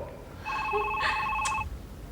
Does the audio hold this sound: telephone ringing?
yes